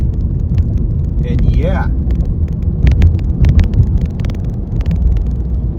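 Cars pass on a road from inside a moving vehicle, a steady low rumble of engines and tire noise with wind buffeting, while a voice talks briefly over it.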